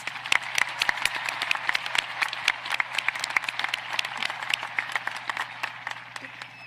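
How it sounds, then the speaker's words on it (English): Graduation audience at Halls High School's 2021 ceremony gives one more round of applause, with scattered sharp individual claps over a room hum and a steady, moderately loud crowd of hands. "Could we give them all one more round of applause?"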